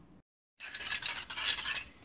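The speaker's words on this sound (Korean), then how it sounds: "계란을 저어줍니다." A utensil whisks beaten eggs against a bowl, giving a rapid run of light, close clinking and scraping that starts after a brief silence.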